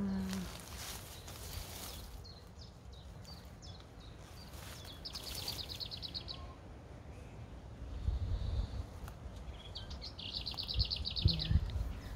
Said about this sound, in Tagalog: Tuwang-tuwa yung mga ibon, guys, kasi